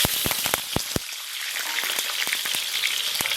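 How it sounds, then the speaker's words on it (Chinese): Steady hot-oil sizzle of scallion, ginger and garlic stir-frying in smoking oil, crackling and popping throughout, with a few sharp spatters near the start. "然后把葱姜蒜给它下里边"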